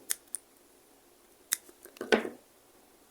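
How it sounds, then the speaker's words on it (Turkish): A few sharp snips of scissors cutting yarn, sparse clicks followed by a short crunchy cut, close up in a quiet room. "Makasla kesebilirim."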